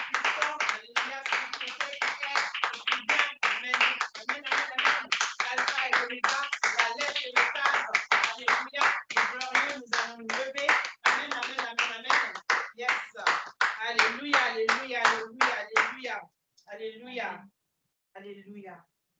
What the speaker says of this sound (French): nous allons applaudir le Seigneur